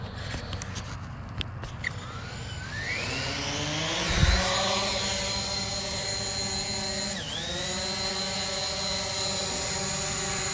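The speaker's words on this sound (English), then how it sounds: "We're going to do an auto takeoff." A Hubsan Zino drone spins up for an automatic takeoff, its motors rising into a loud, steady high-pitched whine with layered harmonic tones that hold close by and dip briefly before leveling out.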